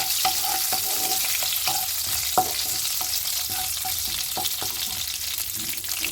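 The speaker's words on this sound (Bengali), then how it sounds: "ফোড়নটাকে, যে মশলাগুলো আছে, ভালোভাবে ভেজে নেব।" Spices for tempering sizzle in hot oil with a steady crackling hiss, while a spoon scrapes and stirs the pan in repeated sharp taps, close and clear with no voices.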